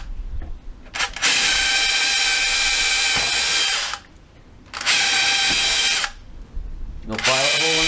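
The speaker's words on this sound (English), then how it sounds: "So you can use them as conventional drills" A Makita SDS cordless hammer drill (DHR243) bores into wood with an 8mm bit, whining loudly close up in three long bursts separated by brief pauses.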